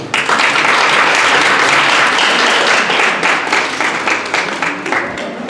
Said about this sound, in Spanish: les pido que le demos un caluroso aplauso